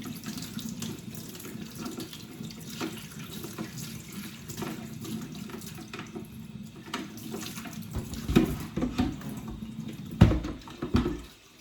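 Tap water runs steadily into a Shark vacuum's dust bin as it is rinsed out at a sink, a continuous splashing wash that swells into louder sloshes near the end.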